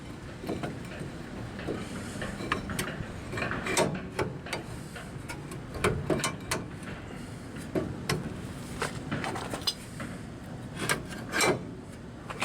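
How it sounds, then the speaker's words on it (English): Paper towel rubbed over a greasy brake rotor during a wheel bearing job on a 1997-2004 Ford F-150 4.6 2WD, a close, continuous scrubbing and rasping with small clicks and clanks of parts. "Get a paper towel and you want to try to get some of the grease off of the rotor."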